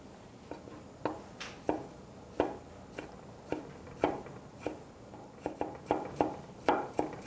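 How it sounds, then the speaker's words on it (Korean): A knife finely chopping cucumber pickles on a cutting board for a tartar sauce, about fifteen crisp, close knocks in an uneven steady rhythm, a few in quick pairs, with no talking. "오이 피클을 곱게 다져 보도록 하겠습니다."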